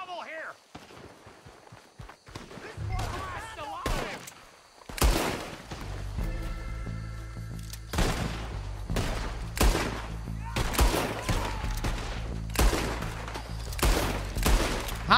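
Gunshots from the video game Red Dead Redemption crack out in irregular bursts and single shots over a low rumbling backdrop, with voices speaking between the shots.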